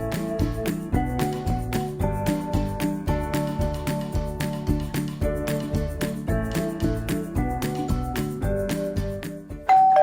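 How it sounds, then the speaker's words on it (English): Chiming doorbell tones ring repeatedly in a steady, melodic pattern, moderately loud and with no talking, ending on a final bright ding, in a pub. "Is that the doorbell I hear?"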